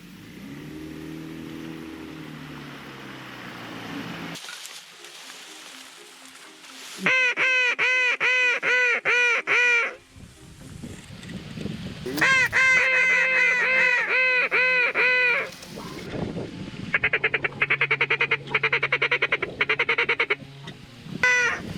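Geese honk loudly in repeated bursts over wetlands, with dense overlapping calls arriving in waves as a flock comes in to land near a single tree.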